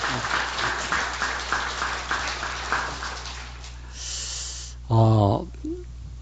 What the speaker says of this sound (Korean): 우리 다시 한번 우리 박수로 우리 격려를 해주시기 바랍니다